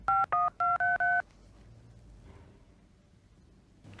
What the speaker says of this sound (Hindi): अपन वो अन्ना को फोन लगाएगा।